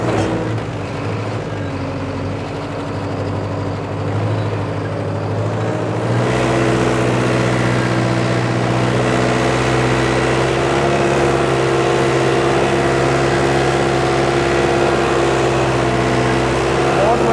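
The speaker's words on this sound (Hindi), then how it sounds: "ट्रैक्टर भी पावरफुल है।" A tractor engine runs steadily on farmland, a continuous droning hum that steps up in level partway through and then holds even and loud, with people talking over it.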